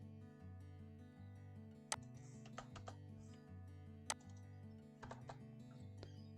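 Code is typed on a computer keyboard in a quiet room, with soft, irregular key clicks and a few louder taps over a low, steady background hum.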